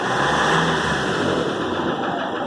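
A Nissan Frontier 2.5 diesel engine revs up and eases off, droning loud and close with a persistent knocking noise running through it, no voices present.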